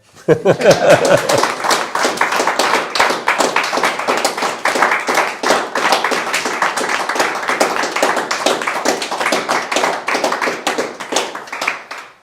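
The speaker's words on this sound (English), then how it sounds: "If you like, you can clap now." Audience at a political talk on the cost of living crisis breaks into sustained, dense applause after the speech, loud and steady for about twelve seconds; a brief voice sounds at the very start.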